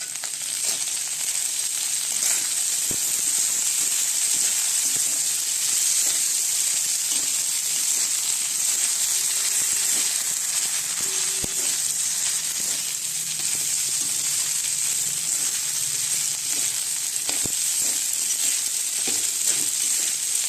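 Leftover idli pieces fry in a pan with masala and sesame seeds, giving a steady, close sizzle and hiss with faint scraping and clinks throughout and no talk.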